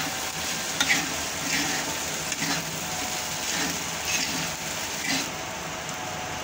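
Sabudana tipped into a pan of cooked potatoes, frying and being stirred, with a steady close sizzle and periodic scraping strokes across the pan.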